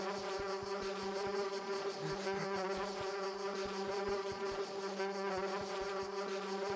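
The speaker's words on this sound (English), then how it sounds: "There's some sort of powerful strain of bee!" Steady, dense insect buzzing from a swarm of bees in the video game Lakeview Cabin, a continuous droning hum with many layered tones, loud and unbroken throughout with no voices.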